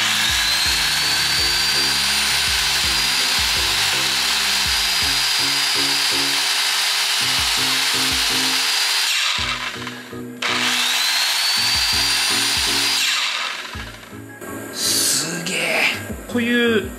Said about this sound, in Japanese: ちょっとお湯沸かしてる時に電気の丸ノコを使ってみます